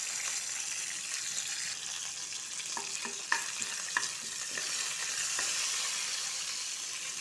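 Urad dal, chana dal, mustard seeds, dried red chillies and curry leaves fry in hot oil for a tomato chutney tempering, a continuous close sizzle with a few sharp pops and clinks midway, no talking.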